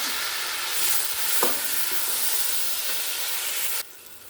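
Garlic, ginger and cumin sizzle in hot oil for vegetable rice, a close, steady frying hiss broken by a few stirring scrapes before the sound drops off sharply near the end.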